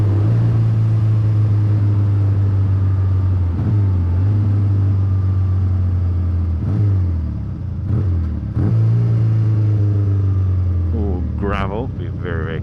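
Triumph T140V motorcycle engine running steadily with a deep, throbbing idle that dips and recovers a few times, slightly lean, close and loud throughout, with a brief rising note near the end and some talk in the background.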